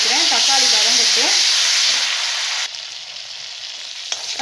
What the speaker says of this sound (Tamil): இதில் ஒரே ஒரு தக்காளி கட் பண்ணி சேர்த்துக்கிறேன். தக்காளி வதங்கட்டும்